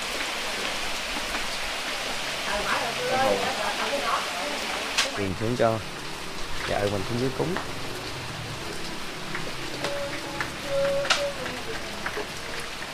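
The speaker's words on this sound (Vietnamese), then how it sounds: "Quá mưa không, cả nhà thấy nè," Steady rain pours down, a constant hiss of drops nearby, while someone talks over it at intervals and other clattering sounds come through.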